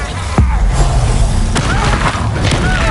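Bombarda explosion spell from Hogwarts Legacy: a loud, deep booming blast near the start, followed by rumbling debris and a second sharp impact amid dense game combat noise.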